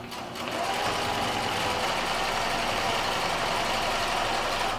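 After a brief quieter start, a sewing machine speeds up and runs fast and continuously, stitching a quilt row nearby with a dense, even whir.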